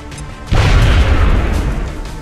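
A frag grenade goes off in a video game: one loud, close boom breaks in abruptly and its broad rumble lingers and slowly fades over the next couple of seconds.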